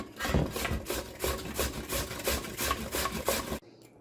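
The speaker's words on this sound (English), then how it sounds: "I'm going to start first by grating our carrots." Carrots being grated on a hand grater into a bowl, a steady rhythmic rasping of roughly ten close, even strokes that stops abruptly near the end.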